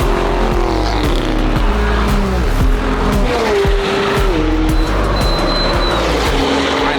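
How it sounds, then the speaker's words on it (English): Sports cars such as Porsches and McLarens drag race at a rally event, loud engines roaring and revving continuously with repeated gear-shift dips, tire squeal and skidding throughout, close and dominant. "We get to do a little bit of drag racing"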